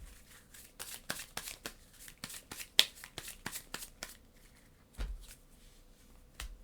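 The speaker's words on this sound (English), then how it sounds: "So we're going to draw a card." Cards from a Legendary Encounters Matrix board game deck are handled on a table, making a quiet run of crisp flicks and snaps at irregular intervals, with a few soft thumps.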